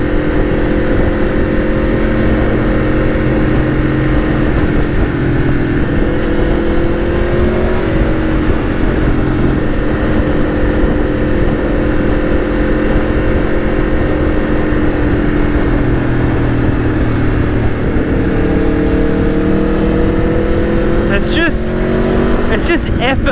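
An Aprilia Tuono V4 1100 naked motorcycle is ridden on the road, its engine a loud, continuous drone that rises and falls in pitch over wind rush, with talk over it.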